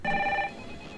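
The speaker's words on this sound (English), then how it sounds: "But I can't stand a ringing phone!" A telephone bell rings once, a loud bright electronic trill lasting about half a second and then cut off, with no voices.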